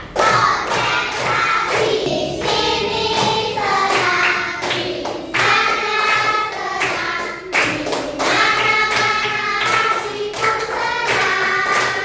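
A classroom of students claps out rhythmic clap-chant patterns in sets, sharp hand claps and thumps in quick repeated bursts with brief pauses between rounds, loud and close throughout.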